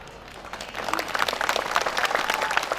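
A crowd at an open-air Islamic tabligh akbar gathering in a village breaks into applause, starting thin and swelling into loud, dense clapping from many hands that keeps going to the end.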